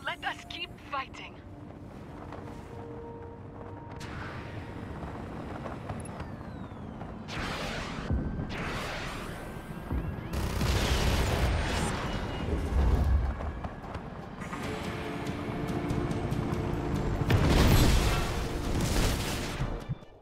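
Explosions and gunfire in the open-world action game Just Cause come as repeated loud, broadband bursts swelling over a constant rumble of engine and wind, building to a heavy blast near the end, with a voice talking over them.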